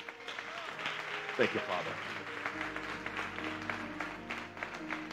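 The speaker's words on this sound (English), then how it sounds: "Let's give God a hand clap for his word." A church congregation claps together for several seconds after a sermon, a broad steady patter of many hands with a spoken voice over it and organ-like tones sustained underneath.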